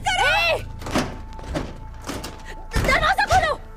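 Heavy thuds of a fist banging on a door, several irregular knocks spread between shouting voices, close and loud in an indoor drama scene.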